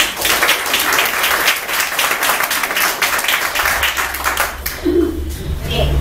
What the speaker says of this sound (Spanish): Un aplauso para Guancayito.